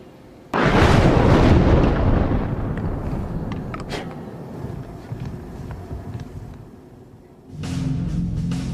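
Black powder charge of a match-cord firearm set off by a burning fuse, a sudden loud blast with a rumbling tail that fades over several seconds, followed by another surge of noise.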